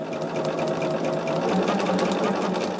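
A sewing machine runs steadily and close, stitching quilt blocks for a disappearing four-patch quilt top in one continuous, even mechanical whir.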